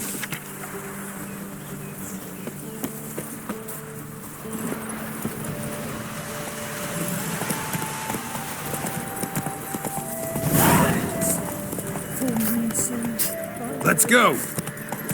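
Roach, the horse in The Witcher 3, makes a steady clip-clop of hooves under ongoing spoken dialogue and music. The hoofbeats grow louder and more pronounced toward the end.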